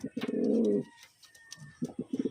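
Pigeons coo close by in soft, throaty bursts: one long rolling coo, then a pause and a cluster of shorter coos, with faint chirps in a quiet setting.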